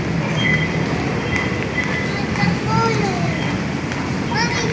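Riding a train bound for Baclaran, a continuous rumble of the carriage fills the space, with faint squeals and tones over it and voices talking on board.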